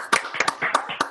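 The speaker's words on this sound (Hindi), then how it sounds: "एक बार जोर से तालियां बजाइए" Audience clapping for Dr Tipanna during an online session on pearl pigments, sparse and uneven, a handful of separate claps in brief bursts rather than a full sustained round.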